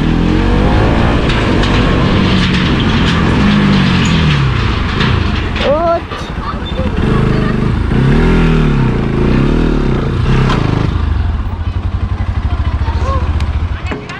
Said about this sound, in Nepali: यहाँ बाइक अड्किरहेछ क्या कहाँ उकालोमा